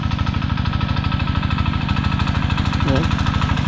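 A small engine runs loud and close at a steady, rapid idle-like throb with no break, used as the fuel source at a rural hut.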